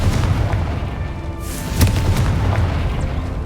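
The Confringo explosion spell in Hogwarts Legacy sets off a sharp, booming blast partway through, with a burst of crackling noise around it over a constant low rumble of game sound.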